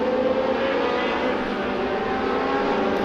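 Racing cars' engines rev steadily behind the safety car at the Dubai GP Revival, a loud, continuous, dense engine drone held at moderate revs without a break.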